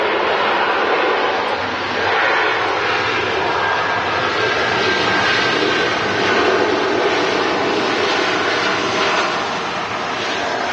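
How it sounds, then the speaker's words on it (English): A TUI Airways Airbus A320 operated by SmartLynx Estonia at Manchester Airport gives off a loud, steady jet engine roar with a broad rushing hiss, sustained and close throughout with no voices. "A320, operated by SmartLynx Estonia."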